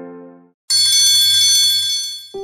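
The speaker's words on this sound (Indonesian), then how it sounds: "bel masuk berbunyi." A school bell rings for the start of class, sending out a loud, steady metallic ring that holds for about two seconds after a short tonal lead-in. It cuts off near the end, and no one speaks.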